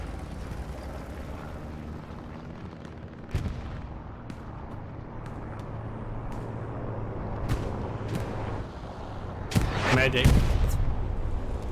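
Artillery barrage in a competitive video game match, heard as scattered distant booms and sharp blasts with a heavy, loud burst near the end, all under constant battle noise, with a voice briefly calling out.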